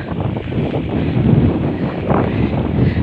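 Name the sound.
strong wind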